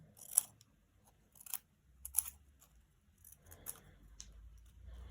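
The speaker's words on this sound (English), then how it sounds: "And then from this, I just cut little triangles out, tiny little triangles." Scissors snipping tiny triangles out of paper at an art workshop, a few sharp, quiet cuts spaced out across the moment, close by in an otherwise hushed room.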